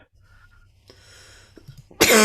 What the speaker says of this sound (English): I have a chronic cough that's related to phlegm.